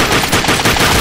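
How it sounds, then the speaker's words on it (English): Rapid automatic gunfire from The Darkness II shooter game, a loud, dense rattle of shots fired in quick succession, close and filling the whole clip. "I'm just shooting randomly in some fucking direction"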